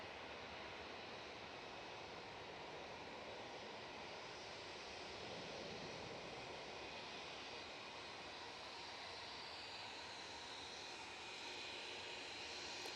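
A320-family airliner arriving from Nice at Manchester Airport, its engines a steady broadband roar lasting throughout, fairly distant and even in level, with no voices over it.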